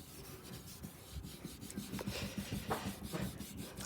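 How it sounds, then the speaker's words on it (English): Oxidation remover is rubbed by hand onto a Mustang's passenger-side headlight, making faint, quick back-and-forth scrubbing strokes close up, with no one speaking. "Currently using an oxidation remover on the passenger side headlight."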